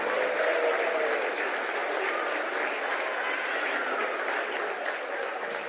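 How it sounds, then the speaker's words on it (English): Steady applause from an audience at a school environmental awards celebration, dense and continuous throughout with no voices standing out. "So one more round of applause to all the schools in the Green Schools Quest."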